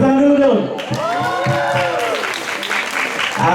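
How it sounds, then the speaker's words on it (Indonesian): Audience applause and cheering at an intercultural student camp, a loud sustained wash of clapping and crowd voices with a speaker's voice ringing through at the start. "Tepuk tangan dulu dong."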